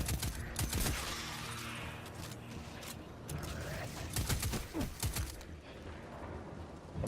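Pulse rifle fire in the sci-fi shooter Destiny 2, heard as repeated short bursts of sharp shots with mechanical clatter between them over dense, loud game noise.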